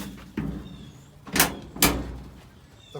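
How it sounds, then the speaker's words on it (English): Two sharp thumps about half a second apart, the doors of a scale model car snapping shut twice, close by, with a softer knock before them and quiet between. "All the doors open and close."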